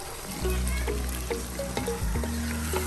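Ham is stirred in a hot frying pan, sizzling steadily with scraping and clinking from the utensil against the pan, close and fairly loud.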